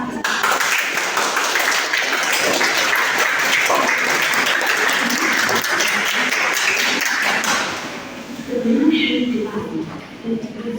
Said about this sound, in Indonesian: Beri tepuk tangan yang meriah kepada tim panel 1 dan tim panel 2 kelas D kelompok 1.